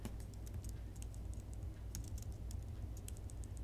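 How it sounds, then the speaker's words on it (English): Arrow keys on a computer keyboard pressed in quick, light taps while editing in Photoshop, a steady string of soft clicks with no voices. "Oh, I'm using my arrow keys."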